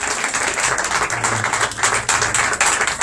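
A church congregation at a Feast of Tabernacles gathering claps in acclaim of the Lord, a dense, steady wash of many hands under a busy room ambience.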